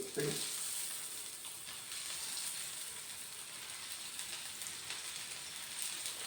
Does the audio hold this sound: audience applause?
no